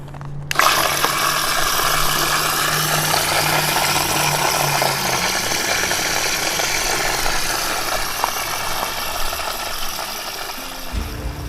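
An external pump runs on a DIY portable livewell cooler, giving a steady, close, loud mechanical whir that holds unbroken for about eleven seconds before it cuts out abruptly, with no talking.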